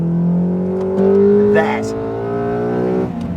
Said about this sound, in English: Oh my gosh, this engine is just amazing.